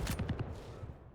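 Rocket launcher fire in an arena shooter duel match comes as a rapid run of faint, clipped blasts early on, then fades into a low, dull rumble.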